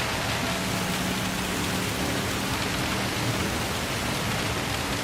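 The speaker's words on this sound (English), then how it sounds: "the car audio is always overpowered by the rain." Steady heavy rain in the racing game Gran Turismo 7, a dense continuous hiss that fills everything evenly with no breaks and no other sounds standing out.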